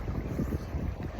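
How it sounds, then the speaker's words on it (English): Steady wind buffeting the microphone, a low rumbling roar with no voices. "It's very windy."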